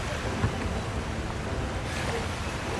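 Water churning beside a cruise ship off Mazatlan, Mexico, a continuous broad rushing wash with steady wind noise, loud and close, no voices.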